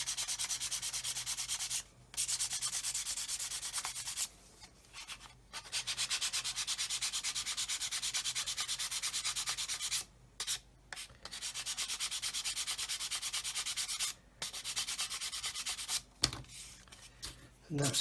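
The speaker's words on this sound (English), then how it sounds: "here we are with those edges all sanded out like I've just done" Sandpaper rubs steadily against the edges of a 1/48 scale Eduard Typhoon Mk.1b model aircraft wing, a close, soft scratching that continues in bursts with a few short pauses.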